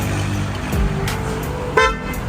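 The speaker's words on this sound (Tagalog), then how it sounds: "malakas na yung busina natin" Short bursts of an upgraded, louder Honda ADX 160 scooter horn honking, a couple of loud toots over a low idling engine rumble.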